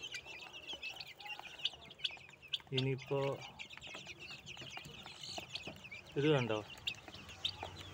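Two-month-old native country chicks cluck and cheep around a farm in Kodannur near Ammad, with scattered peeps throughout and someone speaking briefly over them at close range.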